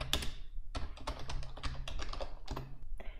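Close computer-keyboard typing in the Vim text editor while a filename is entered into a .gitignore file; keystrokes come in quick clusters separated by short pauses, with no voices.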